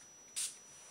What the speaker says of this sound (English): all-nighter makeup setting spray.